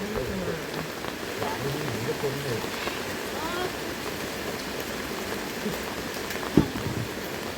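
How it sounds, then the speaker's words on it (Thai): Continuous rain patters on surfaces near a fish trap where a catch is being sorted, a broad steady wash with voices murmuring beneath it and one short sharp knock near the end. "ฝนตกตลอดตลอด"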